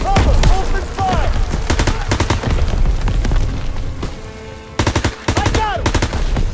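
Rapid machine-gun bursts and scattered gunshots fill a Call of Duty WWII D-Day battle, loud and dense with booming impacts and brief pauses between volleys, while shouted voices cut through.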